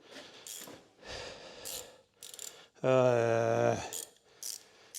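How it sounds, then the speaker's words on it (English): A flexi head ratchet spanner turns a bolt on a twin turbo custom van build, giving a loud close clicking whir for about a second between short bursts of handling and a brief spoken word. "Flexi head ratchet spanner, that'll be the one."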